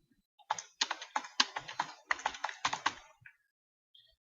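Password keys tapped on a computer keyboard at a school login, about twenty quick close keystrokes in an uneven burst lasting under three seconds, followed by a faint click or two, with no voices.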